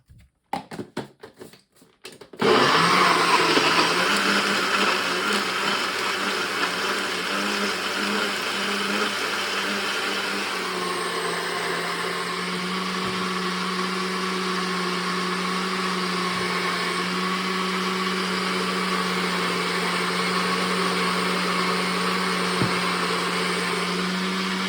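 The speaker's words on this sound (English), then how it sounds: "we're gonna blend it up and make a little bit of a noise" A blender starts after a few brief knocks and then blends juice with a loud, steady whirring roar that holds for over twenty seconds, close by, with no talk.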